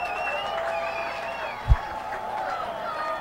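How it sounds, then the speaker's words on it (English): Crowd noise from spectators at an ultimate frisbee rivals game rolls on steadily throughout, with a broad, cheering roar and a brief low thump partway through. "And the crowd is letting him hear it right now."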